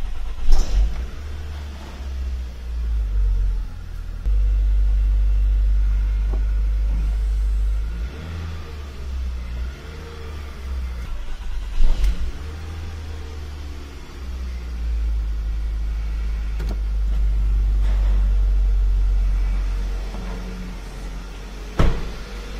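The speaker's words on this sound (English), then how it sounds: "If you unplug that mass airflow sensor and then go to start the vehicle afterwards and it starts" A car engine with its mass airflow sensor unplugged, heard as a loud, low engine note that holds steady and surges for most of the clip. Short dips and a few sharp clicks or knocks break it up.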